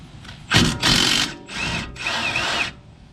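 Power tool spinning a 13mm socket on a brake bolt of a Ford F150 during a rotor change: several loud whirring bursts, each a second or so long, separated by short pauses, close up with no talk.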